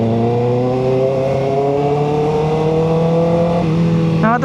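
Road traffic with many cars and motorcycles, heard as a loud, steady engine drone from nearby vehicles whose pitch rises slowly, with a brief shift near the end and no talk.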